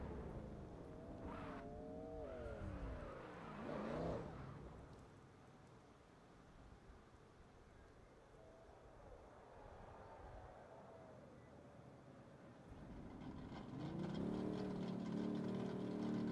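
A drifting hatchback at a drift championship, its engine revving and wailing at a distance, rising and falling through the run, then climbing to a loud high-rpm scream near the end, with crowd and track ambience behind.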